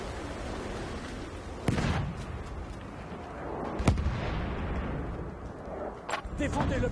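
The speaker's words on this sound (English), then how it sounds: "Oh man, I just threw that grenade by accident." Grenade explosion in the World War I shooter Battlefield 1, a sharp blast followed by another a couple of seconds later, over a steady rumble of distant battle and further pops near the end.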